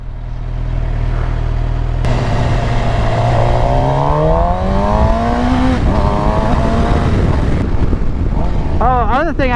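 A Suzuki GSX-R750 sport motorcycle engine revs loudly while being ridden, its pitch climbing steadily through the gears, with wind rushing over the microphone and the rider talking over the continuous engine roar.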